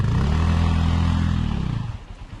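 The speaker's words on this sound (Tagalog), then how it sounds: "Sige, galitin mo yung makina madam," A trail motorcycle engine revs hard and steady up close, a loud continuous drone that eases off and sputters down toward the end.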